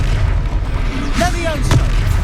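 A Confringo fire spell bursts with a deep boom during a Hogwarts Legacy battle, heard over a continuous bed of game sound and voices.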